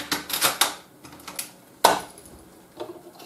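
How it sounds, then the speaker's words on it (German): A screwdriver prying a plastic lock off the packaging of a Proxxon KS230 circular saw, giving several sharp clicks and snaps with one louder crack partway through, close and alone. "diese Plastiksperre werde ich jetzt einfach mal mit einem Schraubenzieher abhebeln oder so in der Art"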